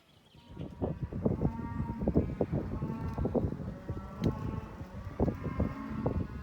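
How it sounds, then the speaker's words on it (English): Cattle on a working ranch call from beyond a hill, repeated lowing and bellowing calls overlapping in a steady chorus, moderately loud and somewhat distant, with no talk over them. "what you're hearing is cows in the background"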